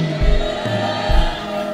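A church congregation at a Sunday service shouts hallelujah together, a brief loud crowd outburst that swells and fades, heard close in the hall.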